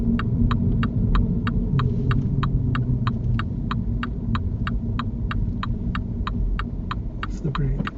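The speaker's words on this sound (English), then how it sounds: "Signal's going on." Steady, evenly spaced clicks of a car's left turn indicator tick about twice a second over a low engine hum and cabin rumble during a driving lesson, continuing throughout.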